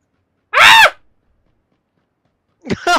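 A player in a PUBG session lets out one loud, shrill scream close to the mic, then a shorter strained cry follows after a silent pause.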